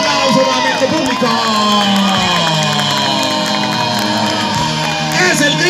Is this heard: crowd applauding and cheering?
yes